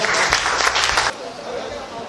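A church congregation bursts into loud, dense applause for about a second, then the clapping cuts off abruptly and leaves a quieter, murmuring room.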